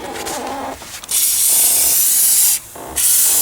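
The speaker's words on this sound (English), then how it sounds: "spray it with some rust protectant in and around the area." Rust protectant sprayed from an aerosol can around the battery area and bolts of a Mercedes-Benz R129 SL: two long, loud, steady hissing bursts separated by a brief pause.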